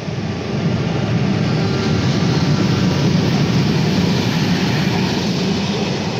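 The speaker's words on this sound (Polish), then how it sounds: "Tak, metro jedzie." A Skoda Varsovia metro train for Warsaw rolls past while being hauled by rail behind a freight locomotive, a loud, steady, broadband rumble of wheels and cars close by without any voices.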